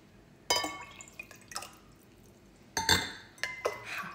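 Water poured from one plastic cup into another, heard as several short splashing and dripping bursts with faint clinks, close and alone, separated by quiet gaps.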